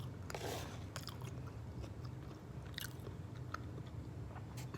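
Someone bites and chews crunchy sweet potato french fries up close, with soft crackling crunches spread over a steady low background hum and no talking.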